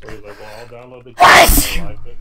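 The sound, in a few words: sneeze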